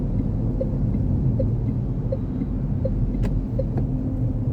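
A Mahindra XUV 7XO petrol automatic car cruising at speed, with a steady, close engine and road rumble running evenly through the cabin, no voices.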